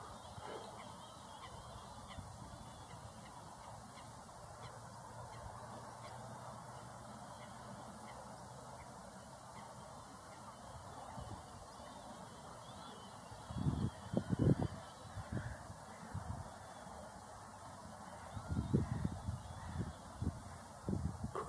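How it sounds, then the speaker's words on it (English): A coot calls outdoors as darkness falls, short honking bursts heard mid-clip and again near the end over a steady hiss of ambient background. "Coot."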